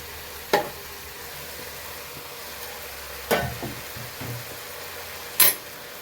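Kannada-style malke kaal sambar simmers in a pot, giving a soft low bubbling bed broken by three sharp spluttering pops and a few clinks as ground masala goes in.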